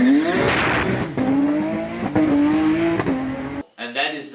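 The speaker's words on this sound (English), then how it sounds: "Or you can just drop the clutch and make a fast pull away" Hillclimb race car dropping the clutch for a fast pull away, engine note climbing steeply through the gears with brief shifts, loud and close, then cutting off near the end into a short quieter tail.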